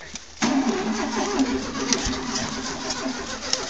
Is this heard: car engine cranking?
yes